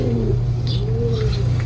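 Pigeons cooing inside a loft, with soft, low coos close by over a steady background hum and a few faint higher chirps.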